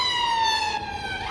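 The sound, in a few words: ambulance siren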